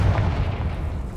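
A fire spell explosion in Hogwarts Legacy, one heavy booming burst that starts strong and rolls on as a deep rumble.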